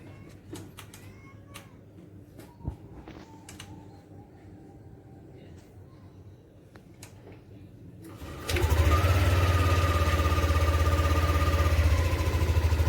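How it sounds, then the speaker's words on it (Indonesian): A 2022 Yamaha NMAX scooter engine starts after a few seconds of workshop clinks, then settles into a loud, steady idle close by. "Ini sudah nyala motornya guys"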